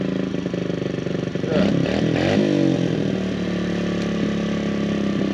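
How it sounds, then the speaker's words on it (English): A Suzuki RM125 two-stroke dirt bike engine runs after a first-kick start, idling with a rough, buzzy, rapid putter that swells briefly as the throttle is blipped, then settles back to a steady, close, loud idle. "The thing started first kick"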